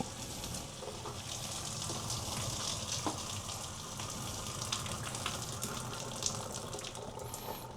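Noodle cooking water from pancit canton pours steadily into a sink, a continuous rushing splash with no pauses, close by and fairly loud.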